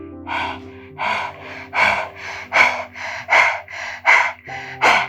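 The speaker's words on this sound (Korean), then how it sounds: "상체를 들어 올려서 개가 헐떡헐떡 호흡하듯이" Dog-like panting breaths practiced for childbirth repeat in a steady rhythm, about a dozen quick, breathy huffs close to the listener, each short burst of air evenly spaced over several seconds.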